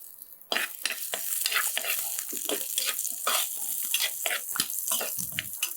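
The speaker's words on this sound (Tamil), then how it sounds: "அந்த எண்ணெய் நல்லா சுட்டதுக்கப்புறம் நான் வச்சுருக்கிற இந்த சின்ன வெங்காயம்" Shallots dropped into hot oil for a dried-fish curry, a sudden close burst of sizzling that continues with busy crackling and spattering, mixed with stirring scrapes.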